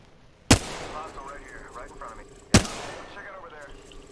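Two loud, sharp gunshots about two seconds apart ring out in the video game Apex Legends, each followed by a decaying tail, with players talking faintly between them.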